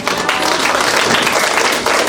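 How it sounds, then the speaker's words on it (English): Brief burst of audience applause at the close of a nursing school prep session, steady dense clapping from a small crowd throughout. "Again, a round of applause"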